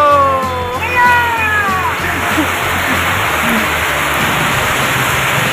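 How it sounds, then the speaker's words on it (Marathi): Heavy rain pours down at Shirgaon Beach in Palghar, a steady, dense hiss filling the whole clip, with tonal sounds and voices layered over the downpour. "आता पाऊस लागलेला आहे."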